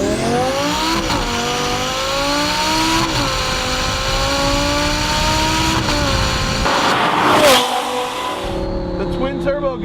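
Heffner twin-turbo 900 hp tuned Lamborghini Gallardo LP 560 pulling hard, its engine note climbing steadily through the gears with brief shift breaks, loud and close, ending in a sharp turbo whoosh and fading roar.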